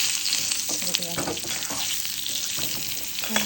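Stuffed capsicum (shimla mirch) sautéing in hot oil with curry leaves in a kadhai, giving a dense, continuous close sizzle with occasional soft scraping, no voices.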